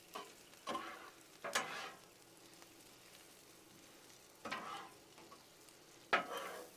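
Onions frying on a Blackstone griddle, sizzling steadily while a spatula scrapes and stirs them in four short, louder bursts; no one speaks.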